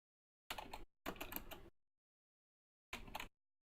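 Close computer keyboard typing in three quick bursts of clattering keystrokes, the second one longest, separated by silent pauses.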